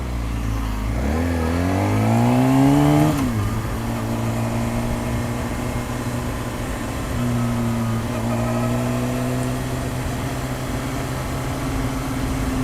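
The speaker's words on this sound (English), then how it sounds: "I'm riding in the stupid rush hour traffic here" A motorcycle rides through rush hour traffic: the engine revs up through a gear, drops, then holds a steady droning note, loud and close, with wind noise throughout and no talk.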